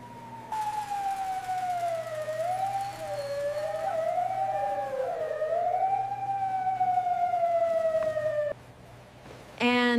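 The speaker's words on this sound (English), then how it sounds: "I hear the ambulance." An ambulance siren arriving at an emergency call, a wailing tone that sweeps slowly up and down over a steady background hum, moderately distant and unbroken for several seconds before cutting off abruptly, with a short loud burst at the end.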